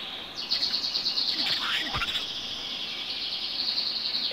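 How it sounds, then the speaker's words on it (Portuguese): Small birds chirp and trill outdoors in a steady, bright, high chorus with a few sharper calls, fairly close and continuous, with no voices. "esses passarinhos só gostam de encher o saco quando a gente começa a gravar"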